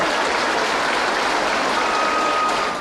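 Sustained applause fills the Brazilian Chamber of Deputies plenary, a loud, dense, even wash of clapping from a large crowd that holds steady throughout.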